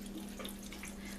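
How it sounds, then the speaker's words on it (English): 80 proof vodka being poured into a jar more than half full of fresh herbs, a faint, steady trickle of liquid that runs unbroken for the whole moment, with no talking. "we're going to pour our 80 proof vodka"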